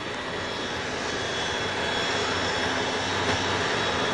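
Steady, loud airplane engine drone from an aircraft in flight, a continuous broadband roar with a faint whine that holds level throughout, with no voices.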